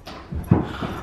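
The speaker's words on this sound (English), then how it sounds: "puppy." A puppy gives a short, close whimper, two or three soft whining yips within about a second.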